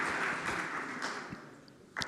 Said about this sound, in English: A big round of applause for all those with 6 problems and no more pending submissions.